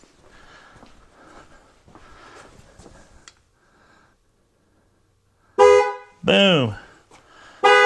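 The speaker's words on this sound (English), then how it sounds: "Then it does 2 honks that says, learning complete." Two loud, short horn honks from a 2015 GMC Terrain close by, signalling tire pressure sensor learning complete, following quieter rustling and a brief silence.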